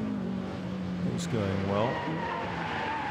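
A car slides its tail on a hill climb course, with a squealing tyre note and engine pitch that rise and fall within a few seconds as a commentator talks over it.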